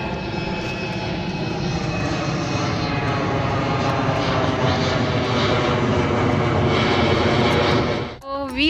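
A fixed-wing airplane flies close overhead near the airport by Castle Island in Boston, its loud, steady engine roar filling the whole stretch before cutting off abruptly with a brief rustle at the end.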